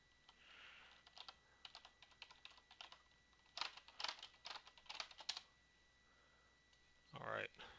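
Keys clatter on a computer keyboard as a username and password are entered, in short irregular bursts of quiet close clicks with a sniff and faint background sounds.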